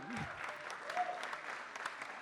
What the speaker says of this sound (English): A big round of applause for each one of them.